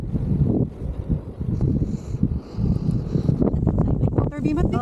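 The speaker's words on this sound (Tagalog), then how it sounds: "Ang lakas ng hangin." Strong wind buffets the microphone on a hilltop near a helipad at Brick Hill, Nam Long Shan, a steady roaring rumble with gusts, while people talk over it.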